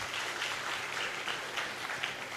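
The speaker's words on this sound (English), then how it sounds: "Clap for yourselves." Crowd applause at an indoor gathering, a steady wash of many hands clapping that continues without pause and swells slightly at moments.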